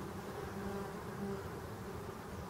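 Black honeybees buzz outside their hive at the entrance board, a soft, continuous drone with faint rising and falling tones, distant and quiet, with no voices.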